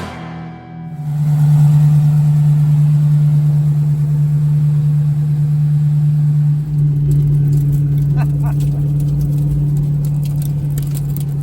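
A Corvette C6 drift car engine drones steadily at a loud, constant idle-like hum, with a brief dip partway through and some faint clicking near the end.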